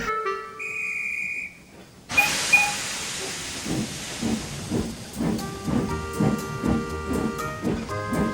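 A heavy steam train sets off from a station: a sharp steam whistle, then a loud hiss of escaping steam, then steady rhythmic chuffing that builds as the locomotive pulls away.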